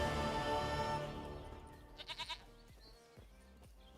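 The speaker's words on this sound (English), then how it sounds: "Goat of mine, dearest, sweetest goat." Goat bleating in The Witcher 3, a short run of three quick, fairly loud bleats pulsing together amid steady game music and ambience.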